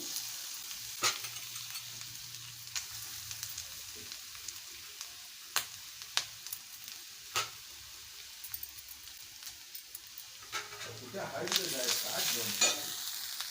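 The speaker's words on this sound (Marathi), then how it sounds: "आता हे खोबरं घालून घेते आणि खोबरं पण भाजून घेते" Grated coconut roasting in a pan after onion and garlic, a soft continuous sizzle broken by sharp spoon taps and scrapes against the pan, close and fairly quiet with no speech.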